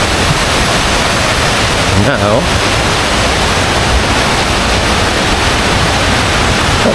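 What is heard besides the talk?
Aliwagwag waterfall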